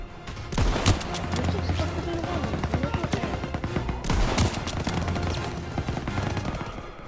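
Heavy gunfire in the Call of Duty WWII video game: loud, dense bursts of machine-gun and rifle fire that rattle on without a break, with sharper blasts near the start and again around the middle.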